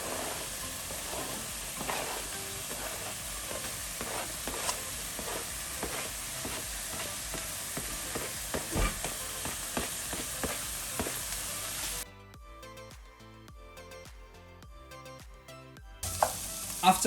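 Ginger, garlic and spring onion sizzle in a hot wok for old Beijing zhajiang noodles, a close, steady frying hiss broken by scattered stirring crackles, with a brief quieter break near the end before the sizzle returns.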